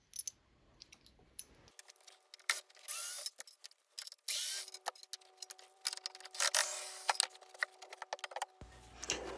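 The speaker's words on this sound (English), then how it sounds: "Here I'm detaching the metal rail" Metallic scraping and rubbing with clicks and ratcheting bursts, close by and irregular, as a metal strut rail is worked loose from an old CNC table; no talking.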